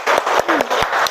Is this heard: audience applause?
yes